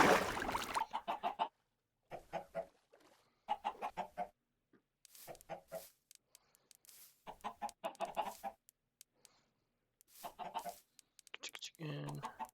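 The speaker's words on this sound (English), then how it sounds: "Chicken." Chickens in Minecraft cluck in short bursts of clipped, repeated clucks separated by silent gaps, fairly close and clear, with no talking.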